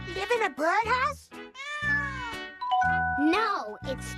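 A cartoon cat meows several times in quick, bright, rising cries, close and loud, with musical backing underneath.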